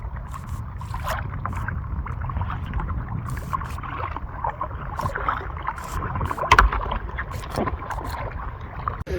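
Kayak paddling on water in Sitka, Alaska: steady watery churn and wind rumble outdoors, with occasional paddle splashes and knocks, one sharper splash near the middle.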